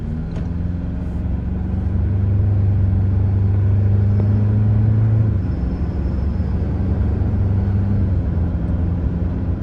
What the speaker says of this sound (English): You hear that Banks cold air intake, that turbo whir?